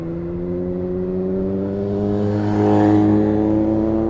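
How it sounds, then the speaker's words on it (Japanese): A green Kawasaki motorcycle's engine winds up steadily as it accelerates nearby on a mountain road, its droning pitch rising and swelling louder toward the end. "川崎の緑いオートバイが、おお、開けた。"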